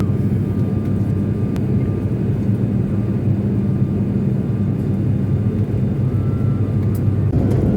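Steady loud engine drone inside a small passenger airplane in flight between Kathmandu and Pokhara, a continuous broadband rumble filling the whole stretch with no talk.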